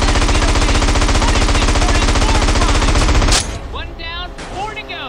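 Rapid continuous machine-gun fire from a plane in GTA San Andreas, loud and dense for over three seconds before cutting off, leaving quieter engine and game sounds.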